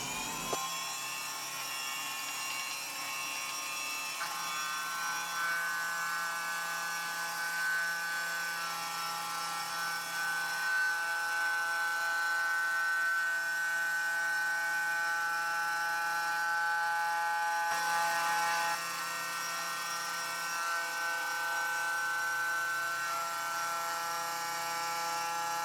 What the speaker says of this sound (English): a roughing cut on a pantograph is exactly that. It's super rough.